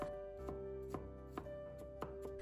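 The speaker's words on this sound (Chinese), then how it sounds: "再给它切成蒜末" A knife minces garlic on a cutting board in a handful of evenly spaced, fairly quiet thuds, with a steady tonal hum underneath.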